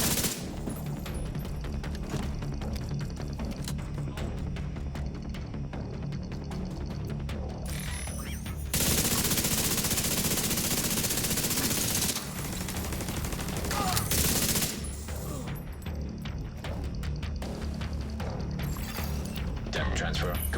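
Rapid automated turret gunfire in the shooter game The Division 2, dense bursts of fire and mechanical clatter running throughout, with louder stretches in the middle and someone talking over it.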